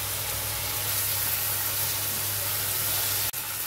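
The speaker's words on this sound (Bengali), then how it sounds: "এবারে আদা রসুন আর লঙ্কার পেস্টটা দিয়ে দিচ্ছি।" Ginger, garlic and chili paste hits a hot pan beside chopped tomato for a soya chunk curry, giving a steady, loud, broadband sizzle that holds evenly throughout and then cuts off briefly near the end, with no voices.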